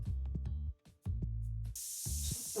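An aerosol spray hisses in a trading card shop video game, a bright, steady burst lasting about a second that follows a few short, plucky musical tones.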